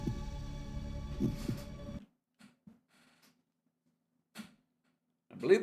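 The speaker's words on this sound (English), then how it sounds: "You'll just have to deal with the sound of my heart beating." A heartbeat thuds in a video game, a low throbbing pulse under a steady hum, then scattered soft beats after the hum cuts out, close and fairly quiet.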